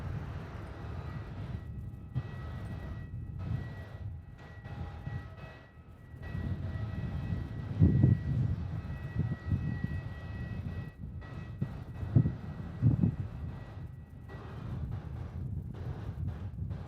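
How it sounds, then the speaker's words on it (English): A 12-year-old Airbus A320 airliner rumbles low and distant at Melbourne Airport, its engine drone swelling and fading under gusts of wind noise. "It's a 12-year-old A320"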